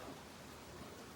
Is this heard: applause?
no